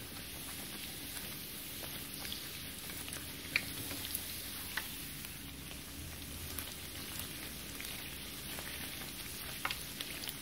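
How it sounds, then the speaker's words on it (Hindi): Puri dough deep-frying in hot oil gives a steady, fine bubbling sizzle throughout, with a few sharper pops and crackles, heard close up with no talking. "देखें, अब मैं इसे तल लूँगी"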